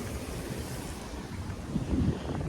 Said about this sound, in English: you can sit here and just watch the waves and the ocean